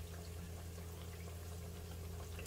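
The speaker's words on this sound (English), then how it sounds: "Filling up his glove with water." Water from a tap runs steadily into a glove in a home kitchen, a faint continuous pouring and gurgling with no other sounds.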